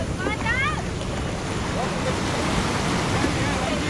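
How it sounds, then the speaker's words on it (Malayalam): A speedboat ride carries a rush of water and heavy wind buffeting, with short voices at the start and steady churning noise throughout. "അമ്മ അങ്ങനെ അഡ്വഞ്ചറസ് ആയിട്ട് ഒറ്റയ്ക്ക് ഒരു സ്പീഡ് ബോട്ട് യാത്ര നടത്തുകയാണ്"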